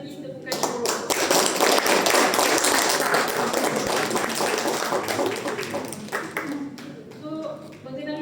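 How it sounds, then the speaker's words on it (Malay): A seminar audience breaks into applause, dense clapping that swells quickly and carries on loud for several seconds before thinning out, with a voice speaking over the tail. "Dato' Daiman Nurliza layak untuk diberi satu lagi tepukan syukur"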